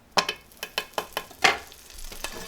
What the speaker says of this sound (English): Swirl it around, let it sizzle out.